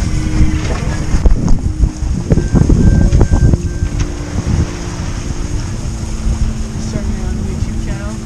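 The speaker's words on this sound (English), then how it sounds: "We got about 9 knots of wind right now" Wind buffeting a microphone aboard a sailboat off the coast of Ventura in about nine knots of breeze, a rough, continuous rumble with brief talking early on.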